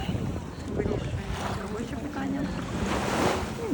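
Ocean water and waves washing along the shore, a steady broadband wash of surf with wind noise buffeting the microphone throughout.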